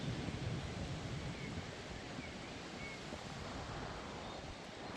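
Strong wind gusts roar through a forest in Isère ahead of a storm, a dense, continuous rushing that starts loud and eases slightly, with no voices.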